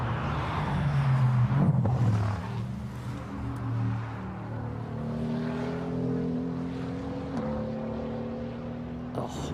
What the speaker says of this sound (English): sound from that Mercedes AMG safety car, the V8 rumble